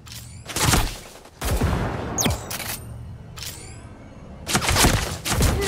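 Bursts of gunfire from the mech combat video game Hotsteel Super Mecha Champion, sharp loud volleys in uneven clusters with brief gaps, some followed by whizzing or ricochet-like sweeps, and no talking.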